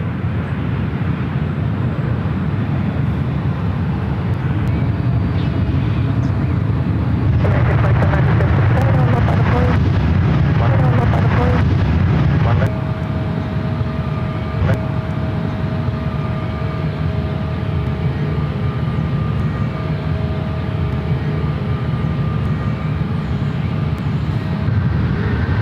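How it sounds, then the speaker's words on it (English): Aircraft noise at San Francisco International as a United Boeing 777 arrives from Munich: a steady, loud broadband roar throughout, swelling briefly partway, with a rising engine whine layered on top and no voices. "That United 777 coming in from Munich,"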